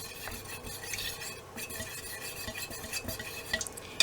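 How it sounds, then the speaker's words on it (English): Melted wax being stirred in a container for making wax melts, a continuous soft scraping and clinking of the utensil against the sides, close and steady with no talking. "So I'm going to continue stirring just to be on the safe side."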